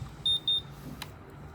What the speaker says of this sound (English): All the diamonds are passing the diamond tester.